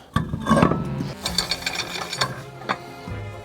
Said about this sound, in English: As you tighten the lug nuts, use a back and forth crisscross pattern